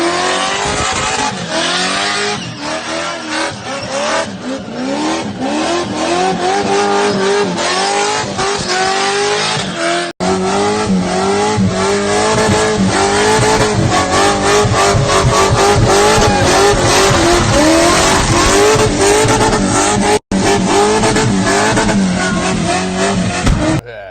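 A car doing burnout skids at a car burnout event: a loud engine revs hard and steadily for the whole stretch while tires squeal and skid continuously, with a couple of brief dropouts.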